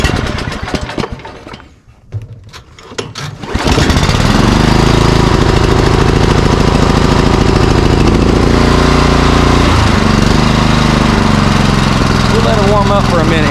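A Swisher 44-inch Country Cut mower engine cranks briefly over a few quieter seconds, then catches and roars into a loud, steady run that continues close by to the end.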